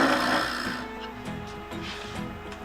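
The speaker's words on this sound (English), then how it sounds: "Scrape with a scraper." Steel scraper held against a spinning claret ash live-edge bowl on a wood lathe, giving a steady rough rubbing hum with faint tonal motor lines, close and moderately quiet, no talking.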